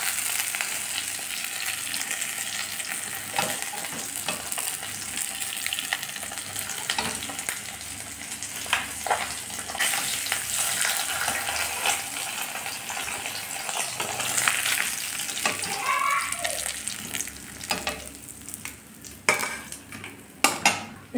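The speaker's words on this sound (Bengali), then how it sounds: "বেশি মাছ নয়, 4-5টা মাছ আমি ভেজে নেব।" Four or five pieces of fish frying in a pan, a loud steady sizzle close by with stirring, clinking utensils and pan scrapes, no voices.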